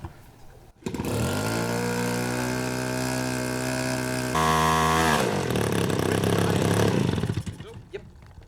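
A 120cc gas engine on a large 156-inch radio-controlled L-19 Bird Dog plane, run with the cowl off, starts up and runs loud and close. It holds a steady buzzing drone, then revs higher before dropping back.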